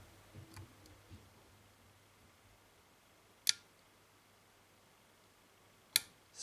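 Lock-picking on a CISA Security Profile euro cylinder, with faint ticks and then two sharp, isolated clicks as pins set, close up in a quiet room.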